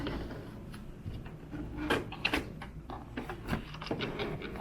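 An HP Tango inkjet printer whirs and clicks through an alignment routine, with irregular ticks and short sliding clunks over a low motor hum.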